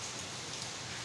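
Monsoon rain falling outside, a steady soft hiss of drops on surfaces, faint and even for a brief moment with no voices.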